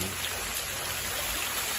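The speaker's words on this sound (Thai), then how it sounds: "พามาชมน้ำตก อยู่ที่วัดเกษตรราม" Waterfall at a Thai temple, a dense, loud, even hiss of falling water, close and continuous over a brief moment, with no voices.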